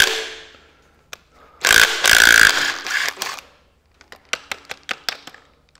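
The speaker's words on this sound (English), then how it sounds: "went and got my little nut gun." A small impact wrench (nut gun) works on the head nuts of a 1929 McCormick Deering engine, giving two loud sustained whirring bursts followed by a string of sharp, evenly spaced rattling hits, all close and with no talk.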